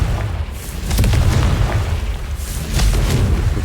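The Confringo blasting spell in Hogwarts Legacy sets off a loud, deep booming explosion, used against a devil's snare guarding a chest. Heavy rumbling blasts roll on for several seconds, with a fresh surge near the end.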